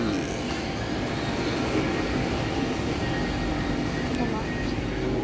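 A steady, loud rumbling roar of a Bangkok MRT metro train in motion fills the space, with a constant low drone and no breaks.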